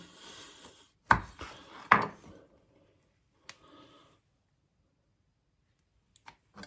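Food sliced thin with an Oremake Sheepdog knife, a few crisp isolated chops knocking on a wooden board, separated by quiet pauses, close and fairly soft.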